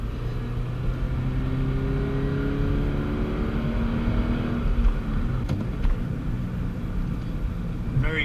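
An E85-tuned Scion FR-S engine droning inside the cabin on a canyon drive, with a steady rumble whose pitch falls as the car downshifts and then climbs again; a voice talks over it.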